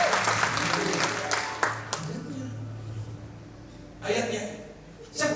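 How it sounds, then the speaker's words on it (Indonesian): A church congregation claps in short bursts: scattered clapping at the start, a brief burst around the four-second mark and a spike at the very end, with a voice speaking between the bursts. "Yang masih semangat tepuk tangan yang terbaik dong"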